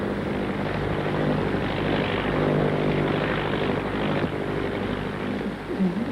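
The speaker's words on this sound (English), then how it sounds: "You must meet Bertie the aeroplane" A cartoon propeller aeroplane drones steadily throughout, a loud, continuous buzzing engine tone that holds level for several seconds with no talk over it.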